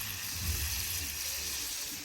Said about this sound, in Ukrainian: Ми вже жаримо карасики, смажимо.